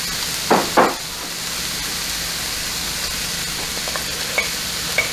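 Scallions sauté in a pan of Kung Pao chicken, a steady hiss of frying broken early by two brief louder crackling bursts, then a few faint ticks and clicks later.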